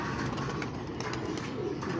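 Low, soft cooing of pigeons being caught and handled, a muffled murmur over a steady background hum.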